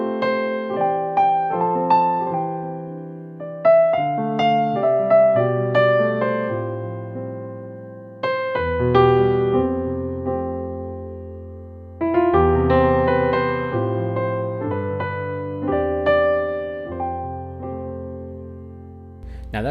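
Improvised piano playing around the Twinkle Twinkle melody, a clear solo run of plucked notes and chords in phrases with sustained low bass notes, close and alone.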